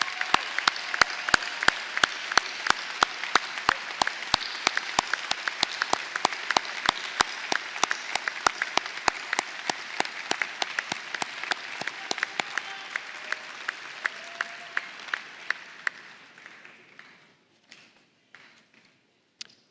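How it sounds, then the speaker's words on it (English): Applause from a graduation audience at a winter commencement ceremony, steady crowd clapping with sharp individual claps that thins out and fades to scattered claps near the end. "let's give them a resounding round of our applause and our gratitude."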